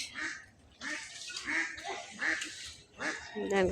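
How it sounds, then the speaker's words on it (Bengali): Small ducks swimming on a village pond quack in short, repeated bursts at close range, a few calls layered over faint outdoor background. "এই দেখেন হাঁস, ছোট ছোট হাঁস সাঁতার কাটতেছে"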